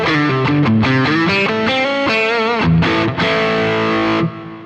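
Sire Telecaster-style electric guitar on its second pickup position with split coil, playing a loud, distorted run of sustained notes and chords that ends on a long ringing chord, with no voices.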